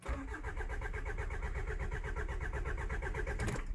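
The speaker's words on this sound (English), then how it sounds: "Now it just cranks" A Hyundai Santa Fe 2.2 CRDi diesel with a crankshaft sensor fault cranks steadily without firing, a rapid rhythmic starter churn heard close up for a few seconds.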